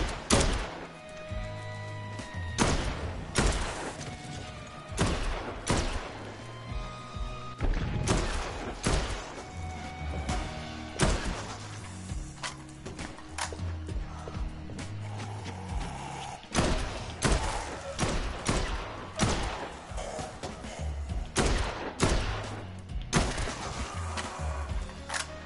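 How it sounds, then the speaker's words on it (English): Gunfire in a zombie shooter game set on a Santa Monica map, heard as repeated loud sharp bursts and thuds spread across the whole stretch, with dense game noise between shots. "this gunfire totally isn't gonna attract even more zombies to me."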